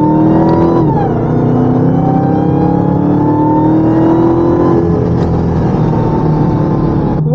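A supercharged Dodge Hellcat engine revs hard, with a loud, sustained roar and rising, falling pitch sweeps, close up with no talking.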